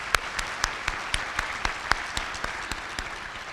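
Audience at an education summit clapping, a sparse, slow run of distinct claps fairly far away and faint, steady for a few seconds without voices.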